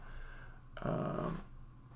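A single short, breathy whimper, a low strained whine lasting under a second against a quiet background hum.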